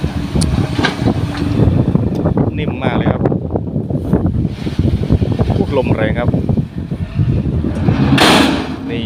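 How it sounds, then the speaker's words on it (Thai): Strong wind gusting across an outdoor worksite where an SK200 excavator loads soil into a FUSO FN2527 dump truck, with steady broadband roar throughout and a louder gust near the end, mixed with faint voices. "วันนี้ลมแรงอากาศเย็น"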